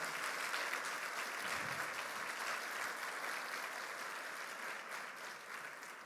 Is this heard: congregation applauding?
yes